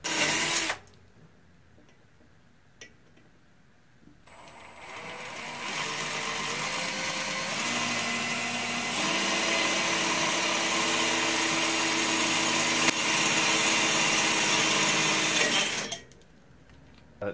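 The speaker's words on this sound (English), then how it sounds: "start drilling the holes" An electric drill whirs steadily at close range for about twelve seconds, its pitch shifting slightly as it bites through an ebike metal frame, preceded by quiet.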